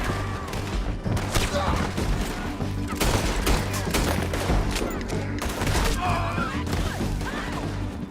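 Heavy gunfire in a town shootout in Red Dead Redemption 2, a continuous crackle of overlapping shots at close range, with voices shouting beneath the barrage.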